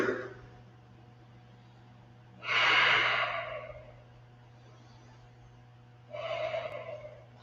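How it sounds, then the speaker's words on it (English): Slow, deep breaths during a yoga class flow, two long airy exhales a few seconds apart over a steady low hum, close and fairly soft with no talking. "And you breathe."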